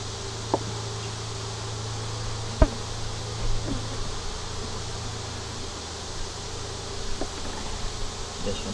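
Honey bees hum in a dense, continuous buzz while two nucs are combined, close and steady throughout, with a few faint knocks of hive equipment.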